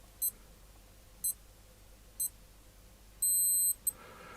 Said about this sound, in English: Listen to the tone.